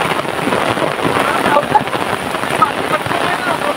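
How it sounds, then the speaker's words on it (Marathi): Heavy, nonstop rain pours down in a Konkan village near the river where idols are immersed, a dense steady wash of drops drumming surfaces close by, with a voice talking over it. "एकदम मोठा पाऊस होतोय"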